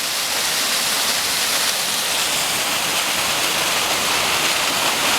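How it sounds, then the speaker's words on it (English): Waterfall in the New Hampshire mountains on a winter night hike, a steady, dense roar of falling water filling the whole clip without pause, close and loud with no voices. "Nice waterfall."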